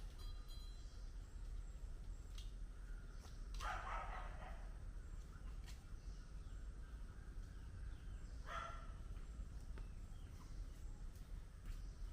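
A neighbouring dog barks twice in the distance, a few seconds apart, over a constant low background hum.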